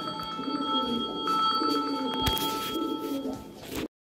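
Pigeons in a seller's loft coo softly and steadily, low murmuring calls over a faint constant hum with a few light knocks and rustles in the background.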